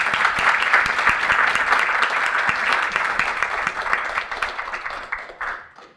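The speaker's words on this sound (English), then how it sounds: "Let's give them a round of applause" An audience at an annual chapter meeting breaks into sustained applause, many hands clapping in a dense wash that gradually thins and fades out over several seconds.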